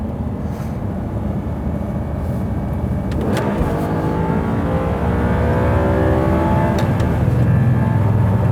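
A motorbike engine revs hard in a racing video game, a loud continuous whine with gear-shift sweeps rising and falling, no voices over it.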